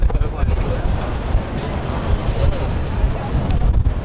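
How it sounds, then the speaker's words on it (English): Strong winter wind buffets the microphone on Tower Bridge in London, a loud, continuous rushing roar with gusty swells that never lets up. "Wind is really blowing."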